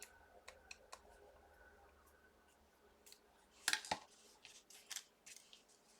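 Scissors snip through scraps of negative die-cut paper for craft tags, a run of quiet crisp cuts and clicks, sparse at first and then a louder cluster of close snips.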